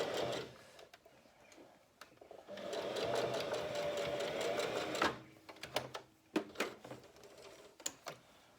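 A sewing machine stitches fabric around curves with a 1 cm seam allowance, a fast, even mechanical whirring that runs steadily for a few seconds, then breaks into short stop-start bursts and clicks.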